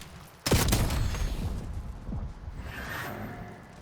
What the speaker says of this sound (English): Take some shots there.